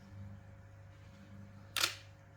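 A Nikon DSLR shutter fires once, a single sharp, close mechanical click in an otherwise quiet room.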